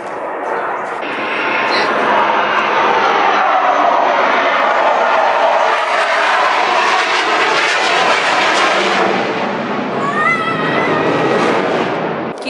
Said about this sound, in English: That's a big military jet.